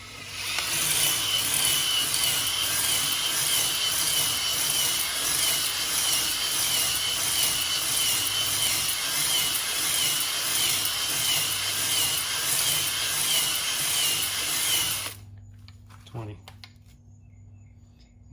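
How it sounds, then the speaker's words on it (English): A drill running in reverse spins a hone inside a Suzuki LT500 cylinder, a steady loud grinding whir that holds for about fifteen seconds, then cuts off and leaves near silence with a faint clink. "Now I'm going to put the drill in reverse,"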